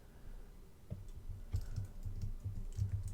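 Computer keyboard cursor keys are tapped in an irregular run of light plastic clicks, close and fairly quiet over a faint room hum, with no speech.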